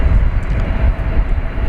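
An Air Canada Airbus A220 jet arriving from Toronto at Dallas Fort Worth International Airport at night, a loud steady engine roar heard briefly and up close.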